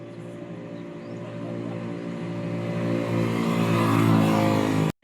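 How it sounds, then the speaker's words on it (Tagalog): A motorized tricycle engine rumbles past on a street, growing steadily louder as it approaches, then cuts off abruptly near the end. "Ayan, may tricycle na po."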